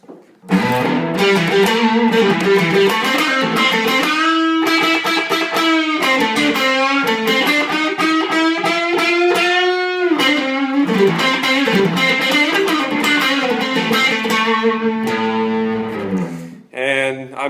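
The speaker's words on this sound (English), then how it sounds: "And here's the dirty sound." Overdriven electric guitar, a 2000 Gibson Les Paul Classic through a Super Reverb amp with an AC booster pedal, chugging and sustaining chords with a gritty, saturated tone, playing continuously and loudly before stopping near the end.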